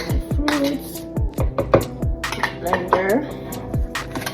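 Pieces of fruit for a pineapple strawberry smoothie dropped into a blender jar in a series of close knocks and thuds at an uneven pace, with some clattering handling noise and no talk.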